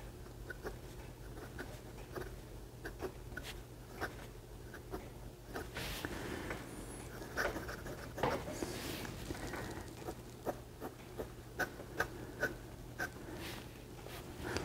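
A Sheaffer White Dot fountain pen with a medium nib scratches softly across paper in short, quiet strokes, recorded close up with no talking.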